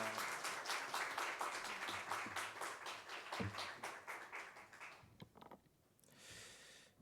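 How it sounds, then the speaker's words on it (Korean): A church congregation gives warm, sustained applause to welcome a pastor at a Sunday worship service, clapping densely at first and then thinning out into scattered claps near the end. "나오실 때 우리 뜨거운 박수로 환영하겠습니다."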